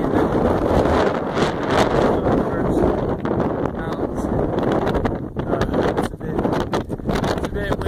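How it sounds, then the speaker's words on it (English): Strong wind buffets the microphone on an exposed mountaintop along the Appalachian Trail in Maine, a loud continuous roaring rush with gusty swells that fills the whole clip. "It's a bit windy up here."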